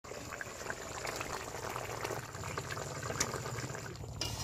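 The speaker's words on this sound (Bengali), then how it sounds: "এবার কিন্তু ভেজে রাখা চিংড়ি মাছগুলো দিয়ে দেবো।" Fried prawns go into a simmering prawn malai curry in a pan, a steady bubbling and sizzling hiss with soft liquid sloshing throughout, moderately quiet and continuous.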